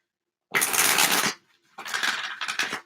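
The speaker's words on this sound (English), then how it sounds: "I'm just going to shuffle one more time" A deck of playing cards being shuffled during a live reading session, two quick riffling bursts with a short pause between, close and fairly loud, no talking over it.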